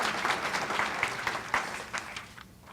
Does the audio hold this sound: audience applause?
yes